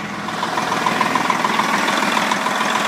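A 1998 Kenworth truck's engine idles close by, a steady, even diesel chug with a regular pulsing throb and no talking over it.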